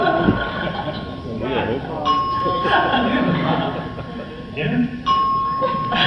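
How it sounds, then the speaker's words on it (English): A bell rings in repeated clear electronic tones, like a doorbell, sounding twice over ongoing talk among several people indoors. "nobody knows what that bell is or how to stop it?"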